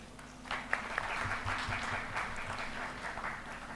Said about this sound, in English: introduce our panel members to the audience with a huge round of applause